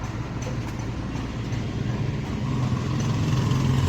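Audi Q5 on a test drive, a steady rumbling cabin drone of road and engine noise fills the clip, with any rattling from the sunroof hard to pick out.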